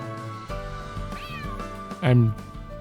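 A cat meows in the Trails Through Daybreak II video game, with one loud, close, drawn-out meow over ambient game music and a few softer mews before it.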